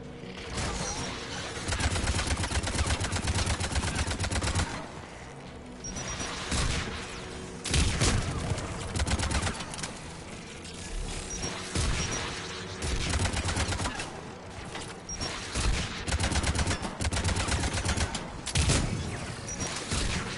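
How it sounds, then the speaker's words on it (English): Anti-aircraft guns in Mass Effect 3 fire in heavy, sustained bursts with booming rattling volleys, loud and continuous with brief lulls, over a game soundscape. "AA guns ahead of us."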